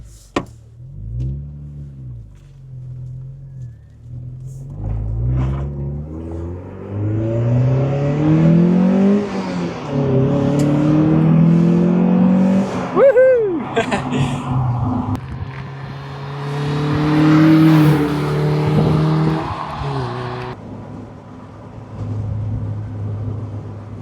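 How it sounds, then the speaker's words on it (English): Retro car engine revving hard on a back-road test drive, throaty intake noise rising with the revs through gear changes, loud and close, sustained throughout with no talking. "When you get high in the revs as well, you can hear that intake."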